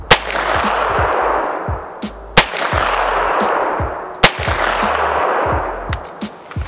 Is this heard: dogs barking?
no